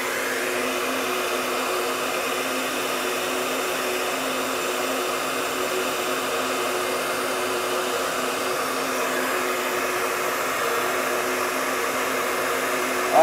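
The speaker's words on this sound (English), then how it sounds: "But we're going to go ahead and heat this tool up as the gun's heating up." A heat gun heats up before a plastic hood repair on a 2014 Cruze, giving a steady, loud blowing whir with a constant tone that holds unchanged throughout, with no talk.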